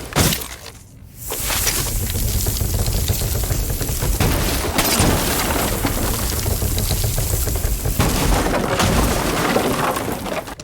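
In Rainbow Six Siege, an Ace hard breaching charge detonates on a wall, releasing a loud, sustained roar of blasting and shattering debris that lasts several seconds, with a couple of sharper bursts along the way.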